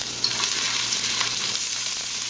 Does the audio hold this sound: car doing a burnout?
no